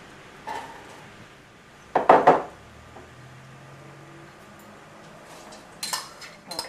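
Onions and celery sautéing in oil in a soup pot, stirred with a utensil: a few brief scraping, clinking stirs stand out over a low, steady sizzle.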